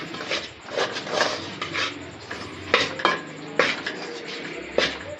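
Barfi sweet mixture being stirred in a pan off the heat, with repeated scraping and metallic knocks of the spoon against the pan, close and without talk.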